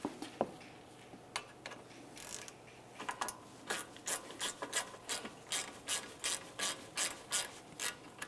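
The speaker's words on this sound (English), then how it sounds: "we're going to start this into its corresponding hole by hand with a small ratchet" Small hand ratchet turning a brake caliper bolt on a 2011-2018 Volkswagen Jetta, a run of close, crisp clicks that starts sparse and settles into a quick, steady rhythm of bursts.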